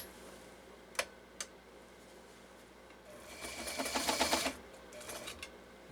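A Japanese 1.3 amp Elgin 2468 sewing machine stitching up close: a couple of sharp clicks, then a fast rattling run of needle strokes that builds, peaks and stops, followed by lighter mechanical ticks.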